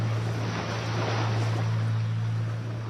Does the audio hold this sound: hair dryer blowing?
no